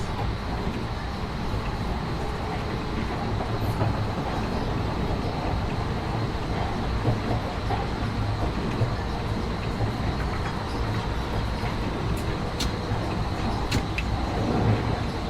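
A train in Train Sim World 4, fitted with audio mods, runs with a steady, loud, broad rumble and rattle that holds evenly throughout, with a few faint higher clicks and squeals.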